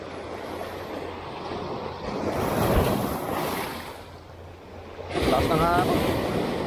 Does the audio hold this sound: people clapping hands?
no